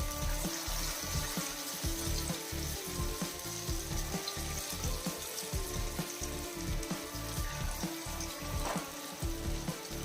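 Small snacks made from dosa batter fry in hot oil, a steady, dense sizzle with bubbling crackle that holds fairly loud and close throughout, with no voices.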